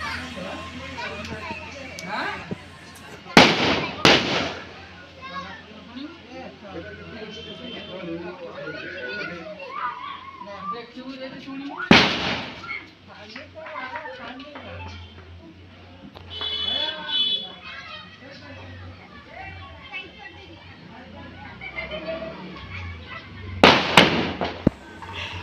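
Firecrackers burst at a temple in a few loud, sharp bangs spaced seconds apart, over steady background chatter and children's voices.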